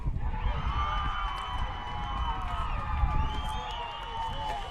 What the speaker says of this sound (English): As we hear the cheering going on over at the softball field